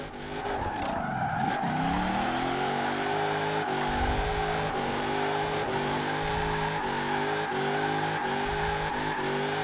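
Chris Forsberg's drift car in Forza Horizon 4, its high-revving two-litre big-bore inline-six screaming near the limiter with repeated shift-like dips in pitch, under a constant loud howl of squealing, skidding tyres.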